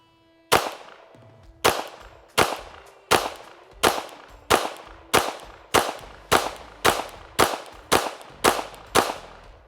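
Laugo Arms Alien pistol fired in a rapid string of about twelve sharp, loud shots, each cracking report trailing off briefly before the next, evenly paced with short gaps and no talking.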